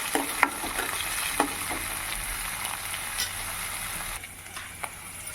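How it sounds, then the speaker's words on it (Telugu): Capsicum and green chillies fry in a pan with a constant sizzling hiss, punctuated by several spatula taps and scrapes early on, then softer stirring, with no speech. "క్యాప్సికము, పచ్చిమిరపకాయలు 2 వేసుకొని వేయించుకోవాలి"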